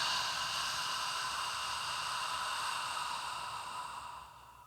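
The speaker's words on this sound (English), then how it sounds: "open your mouth and exhale a sound with your breath, like you're trying to fog up a window or polish a pair of glasses" Open-mouthed exhale, like fogging up a window or polishing glasses: a single long, airy breath of soft hiss, close and quiet, fading at the end.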